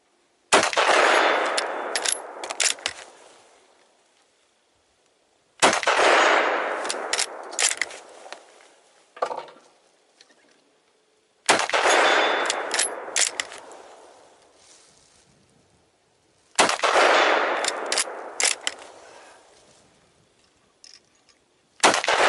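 Four loud outdoor shots from an M-24/47 bolt-action rifle, spaced several seconds apart, each a sharp crack followed by a long rolling echo that fades, with bolt-cycling clatter in the gaps.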